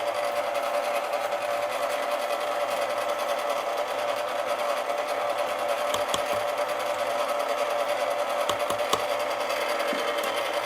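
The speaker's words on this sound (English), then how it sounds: "we're just going to mix all those ingredients together" Biscochito dough ingredients being mixed, heard as a steady, continuous mechanical whirr like an electric mixer, running unbroken throughout with a few faint knocks and no voices.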